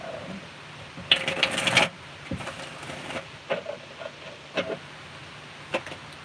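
A quick burst of tarot card shuffling, crisp and close, followed by scattered soft taps and flicks as cards are handled and laid down.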